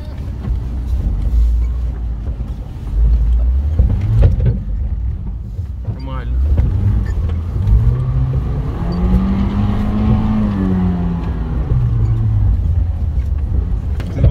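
An off-road car ploughs through mud at a mud-racing event, its engine rumbling steadily and rising and falling in pitch as it revs and strains, with people talking close by throughout.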